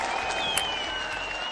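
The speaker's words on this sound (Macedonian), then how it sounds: "И Мадона и даде аплауз." Studio audience applause on a fashion television show, a short burst of steady clapping from a crowd, fairly close and filling the moment.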